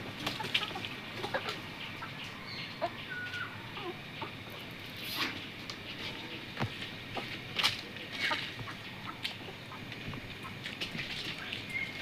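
Hens about to lay eggs cluck softly and intermittently in a backyard coop, faint calls scattered over a steady hiss of outdoor ambience.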